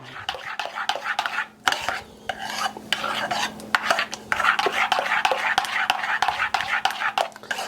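A spoon stirs orange zest into cranberry custard pie filling in a bowl, giving repeated scraping and clinking strokes close by.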